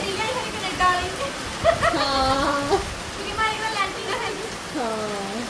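Heavy rain falling after a windstorm in rural Punjab makes a steady, even hiss throughout, while people talk over it nearby.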